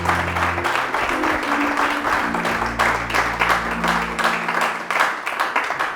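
Church congregation clapping to acclaim the Lord during a French-language sermon, a dense, steady wash of applause lasting the whole stretch, with sustained organ or keyboard tones underneath.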